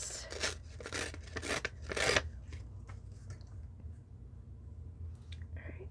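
Paper is torn in short rasping rips for a journal page, several quick bursts close up, then quieter fiddling with the sheet.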